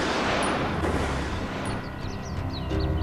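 Gunfire from a five-rifle firing squad at an execution, a dense sustained burst of loud, rumbling shots with some crackling high transients scattered over the last second.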